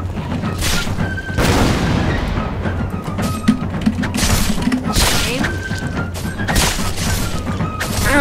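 A Boomer enemy blows up in Guts & Black Powder amid battle noise: a dense, loud stretch of booms, crashes and thuds with several sharp bursts over a constant rumbling bed, no clear talking.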